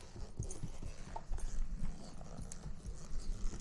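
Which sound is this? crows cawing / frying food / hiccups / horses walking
horses walking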